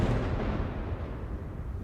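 An explosion in the video game X2: Wolverine's Revenge gives a loud, deep booming rumble that fades gradually over about two seconds, with no talk.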